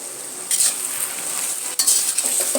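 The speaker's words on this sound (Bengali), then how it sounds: "এটা সুন্দর করে কষিয়ে নিতে হবে" A fish curry with pointed gourd is stir-fried in a pan, with brisk scraping stirs and utensil clinks over a bright, continuous sizzle that sounds near and fairly loud.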